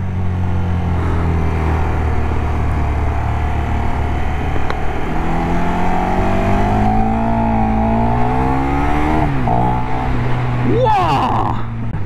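A KTM 1390 Super Duke motorcycle accelerating hard in first gear out of a hairpin, engine pitch climbing steadily and loud under wind noise, with a rider talking over it.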